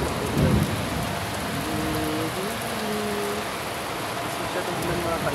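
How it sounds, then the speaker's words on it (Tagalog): Heavy rain pours steadily on surfaces at KMCC, a dense continuous wash with a low rumble near the start, and no speech over it. "Lakas ang ulan mga ka-idol."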